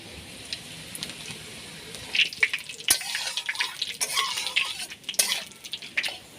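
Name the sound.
dried red chilies, bay leaf and cumin sizzling in hot oil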